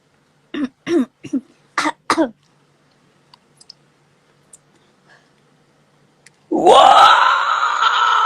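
Five sharp, close coughs in quick succession, then near silence with faint clicks, before a loud, sustained wash of noise takes over near the end.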